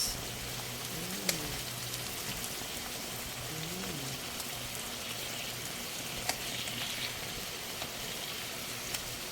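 Pork fat crackling and rendering its oil in a pan for pakbet, a steady dense sizzle with occasional sharp pops throughout, no talking.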